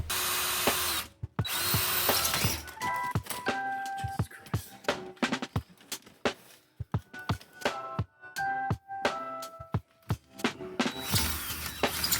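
A power drill whirs in repeated bursts during work on an electric Lancia conversion, starting and stopping with short pauses between, loud and close, with brief clicks and clatter in the gaps.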